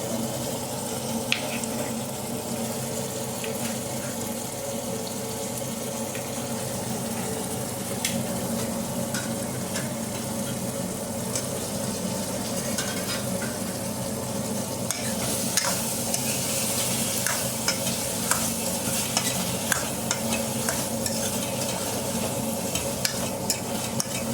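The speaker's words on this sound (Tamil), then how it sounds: "நல்லா உருளைக்கிழங்கு ஃப்ரை பண்ணிக்கலாம்" Potatoes frying in a pan at home for breakfast, a steady close sizzle with occasional stirring clicks and scrapes, growing slightly busier toward the end, no talking.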